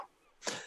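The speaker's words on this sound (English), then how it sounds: "Great racking sobs with occasional coughing because of all the burnt wool." A single short, breathy cough, as from choking on burnt wool smoke, bursts out after a brief quiet moment, close and fairly soft.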